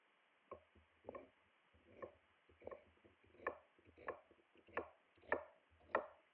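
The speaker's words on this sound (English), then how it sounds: "We'll just cut them into some thinner slices after trimming them up" Knife slicing trimmed carrots into thin rounds on a cutting board for a winter duck civet, about ten close, crisp chops in a steady, unhurried rhythm.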